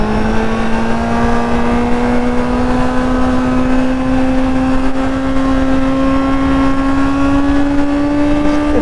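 A superbike engine holds a steady high drone whose pitch climbs slowly as the rider warms the tires on a group ride. The sound is loud and continuous, with no pauses.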